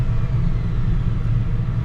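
A car idling on a Dynocom chassis dynamometer, a constant low engine rumble with a steady drone and no revving, no voices.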